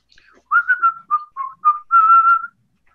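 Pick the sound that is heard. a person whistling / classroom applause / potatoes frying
a person whistling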